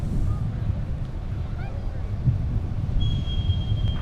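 Strong gusty wind blows across an airport, a constant low roaring rush buffeting the microphone, with faint muffled voices in the background.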